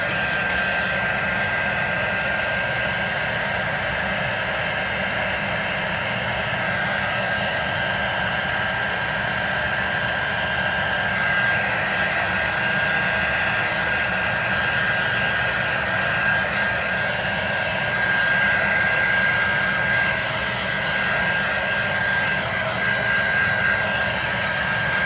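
A hair dryer blows steadily and loudly on shape tape paper, a continuous broadband airy roar holding near-constant level with no talk.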